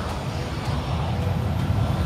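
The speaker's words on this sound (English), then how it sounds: "That's the airplane." A Boeing 737-900ER's jet engine gives off a steady, moderately loud roar with a low rumbling drone, heard alone without voices.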